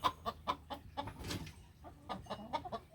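Backyard chickens kept up by the house cluck in short, repeated bursts, fairly close and soft, with a few louder squawks mixed in and no talking.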